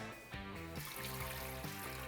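Water poured into the container of a Breville bread maker, a continuous trickling splash with a faint, slightly rising tone, quiet and close, no talking.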